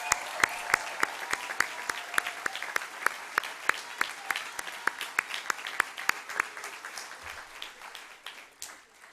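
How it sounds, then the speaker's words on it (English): Audience at a school gathering applauding steadily, a dense run of many hands clapping for several seconds, then thinning and fading out near the end. "let us give them another big applause"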